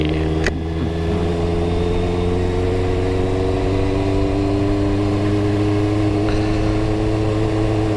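Honda CBR650R 2021 motorcycle engine idling steadily after a warm-up in cold weather, a close, even drone with a constant low hum and no revving.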